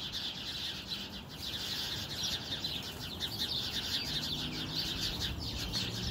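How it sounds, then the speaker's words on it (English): Steady outdoor ambience with faint, scattered high bird chirps from some distance, continuous throughout with no voices. "There's some of the birds over there in the"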